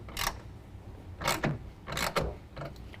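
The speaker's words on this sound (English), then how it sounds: "snug it up with a 9/16 and then get it tightened down to the rails" A 9/16 wrench tightening a clamp on a GatorTrax tonneau cover rail of a 2012 Ram 2500: four quiet metallic ratcheting bursts, each a short scraping rasp separated by brief pauses, with no speech.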